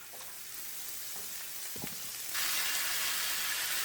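Fenugreek greens dropped into a hot pan with oil and cumin powder, a steady bright sizzle that jumps louder as the greens hit, then holds as a dense continuous frying hiss, close and alone.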